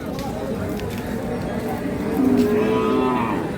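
A dairy cow lows at a busy cattle market where high-yield milking cows are being sold, a drawn-out moo rising over steady crowd murmur and chatter near the end of the scene.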